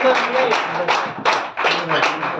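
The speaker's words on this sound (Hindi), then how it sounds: "जोरदार तालियां मैं इसलिए चाहता हूं" An audience at an open meeting in Hisar claps loudly and steadily, the applause swelling and dipping in waves while a voice carries on speaking over it.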